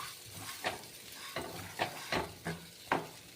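Sugar and Kashmiri chili powder fried and stirred in a pan for a vegetarian paneer curry, with a soft sizzle beneath five or six distinct scraping stirs at an uneven rhythm, close and moderately loud.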